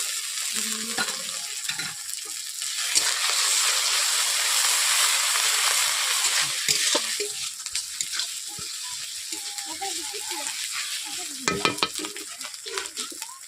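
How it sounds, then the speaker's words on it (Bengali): Ginger garlic paste hits lightly fried onions in a hot pan, giving a loud, steady sizzle with stirring scrapes and a few clinks throughout, and no talking. "পেঁয়াজগুলোকে আমি হালকা করে ভেজে নিলাম এরপর দিয়ে দিচ্ছি আদা রসুনের পেস্ট"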